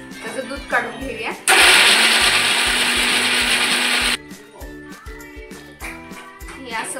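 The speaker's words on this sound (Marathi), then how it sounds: "आता आपण मिक्सरला नारळ बारीक करून त्याचं दूध काढून घेऊया" An electric mixer grinder roars for about three seconds as it grinds grated coconut for solkadi, a loud whirring burst framed by clattering and knocking of the jar and lid before and after.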